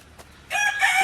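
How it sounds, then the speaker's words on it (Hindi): A rooster crows loudly and fairly close in a kitchen garden, its drawn-out call starting partway in after a brief quiet moment, with no speech over it. "और साथ में मुर्गों की आवाज़ तो आपको आ रही है।"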